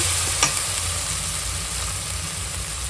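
Biryani spices fry in a pan, giving a steady close hiss and sizzle with one brief sharp clink near the start. No one speaks.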